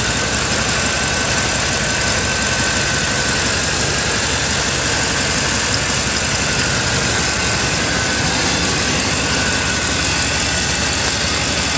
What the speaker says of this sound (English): Truck runs beautiful.